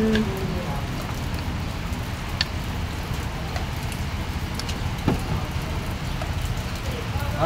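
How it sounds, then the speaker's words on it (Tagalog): Steady afternoon rain falling on surfaces outdoors, a continuous even hiss with scattered drip taps, while someone talks over it at times. "Maulan na hapon."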